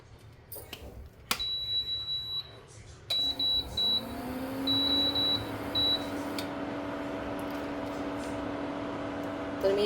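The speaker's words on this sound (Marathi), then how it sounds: "तर मी इंडक्शनवर ठेवलं आहे गरम करायला" An induction cooktop switched on to heat milk gives a single sharp click, then a string of short, clear electronic beeps in uneven bursts, followed by a steady low hum.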